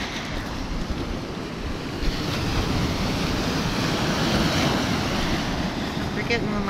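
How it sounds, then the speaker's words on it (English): Waves crash onto a Lake Superior shore in bitter cold, a continuous loud roaring surge mixed with heavy wind buffeting the microphone. "Oh, these waves are something else, though."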